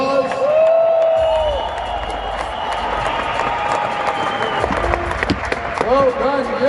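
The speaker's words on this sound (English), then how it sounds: "A huge round of applause." Audience applause and crowd noise build into a broad, steady wash of clapping and cheering at a business meeting, with a voice speaking over it.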